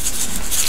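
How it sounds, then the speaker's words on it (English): Dry rub being patted by hand onto raw pork chops before smoking on a Weber kettle grill, a soft, steady close-up rubbing and patting texture with no talk over it. "You just want to get it on there and pat it in."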